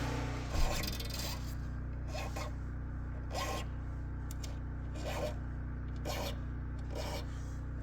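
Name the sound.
filing sharp fret ends on Gruhn Versitar guitar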